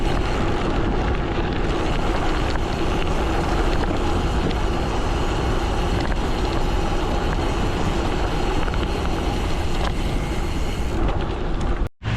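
Strong headwind roars across a microphone during a long road bike ride around Poznań, a loud, steady broadband buffeting that fills the whole stretch with no voices.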